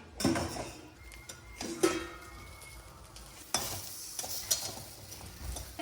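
Gentle sizzling of an egg frying in a pan with occasional spatula scrapes and light clinks of utensils, fairly quiet and steady.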